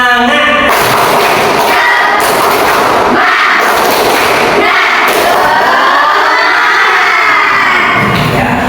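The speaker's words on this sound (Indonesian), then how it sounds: "Yuk, 1, 2, 3, tepuk semangat." Schoolchildren in a classroom loudly shout a rhythmic spirit chant together, their voices overloaded and punctuated by heavy, thumping group claps at intervals.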